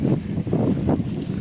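A tractor runs a laser land leveler across a farm field, giving a loud, steady engine rumble with rough, clattering surges and brief knocks throughout, and no voices.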